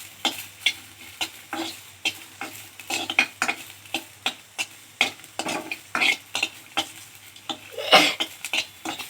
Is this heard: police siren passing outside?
no